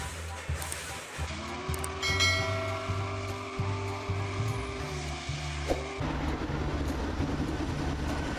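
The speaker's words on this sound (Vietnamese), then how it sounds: "Steam engine." A steam engine train rumbles with rhythmic low chugging at first, then a sustained tonal whistle-like drone over continuous rail noise, fairly loud and close, with no speech.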